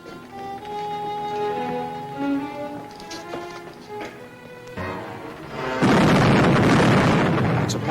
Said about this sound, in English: Man the guns, return the fire.